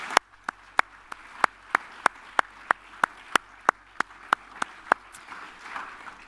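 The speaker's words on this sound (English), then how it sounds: "Let's give all of our new members a big round of applause." Clapping at a board of councilors meeting for newly announced members: sharp, evenly spaced claps in a steady rhythm, fairly clean and distinct rather than a dense roar, fading toward the end.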